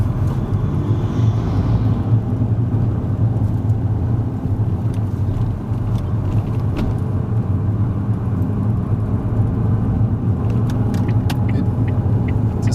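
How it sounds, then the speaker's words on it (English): Car engine rumbling steadily as it pulls away and drives on a Milton Keynes driving test route, a continuous low road drone throughout with no talk over it. "as you release that handbrake, just increase the gas before easing the clutch up"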